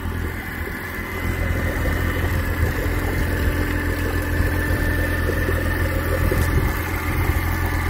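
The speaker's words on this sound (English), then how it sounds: "Motor kind of sounds like it's idling high." A 2000 Honda 130hp inline four-cylinder EFI four-stroke outboard motor idling high on the bench, a steady close-up mechanical drone with a constant low hum and faint vibration, running alone without talk.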